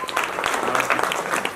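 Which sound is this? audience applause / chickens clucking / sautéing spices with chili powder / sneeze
audience applause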